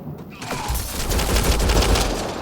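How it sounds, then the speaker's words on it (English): A gunshot burst in Mass Effect Andromeda lands as a loud, rumbling blast that swells into a sustained roar of overlapping fire and noise across the short moment. "They shot him!"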